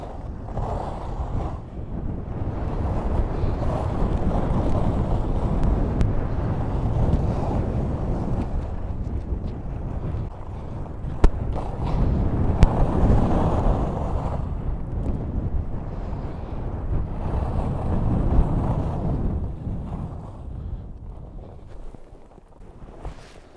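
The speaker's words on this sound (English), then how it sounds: "It's bloody windy though" Strong wind roars and buffets the microphone steadily throughout in -11°C cold, with gusts rising and falling and no voices.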